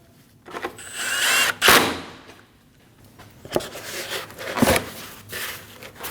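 Power drill driving three screws into the front bumper impact absorber of a 2012-2022 Volkswagen Passat, heard as short whirring bursts separated by pauses, with no talking.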